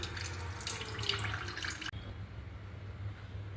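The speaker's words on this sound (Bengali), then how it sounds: "ঢেলে হালকা হাতে আমি জলটা একটুখানি চিপে দিচ্ছি" Water wrings out of fresh chhana cheese squeezed by hand in a cotton cloth, a close steady trickle and drip that runs for about two seconds and then cuts off to near silence.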